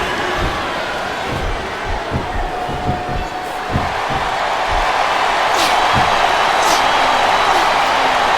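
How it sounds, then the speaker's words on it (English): A crowd cheers and roars in the arena of the WWE SmackDown vs Raw 2007 wrestling video game on Xbox 360, a steady wash of noise with thumping ring impacts in the first half. "I think these superstars are getting some feedback from the crowd, JR."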